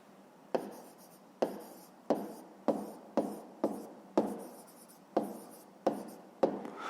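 Pen writing out a math solution on paper, close and quiet, with about a dozen distinct scratchy strokes in an uneven rhythm separated by short pauses.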